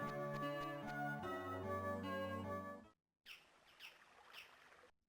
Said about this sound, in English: Hey, we hear chirpies.